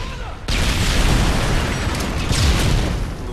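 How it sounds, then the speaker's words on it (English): A grenade goes off in a first-person shooter match: a sudden loud, close blast, then a broad roaring rumble that lingers and swells again briefly. "I got a nade going over."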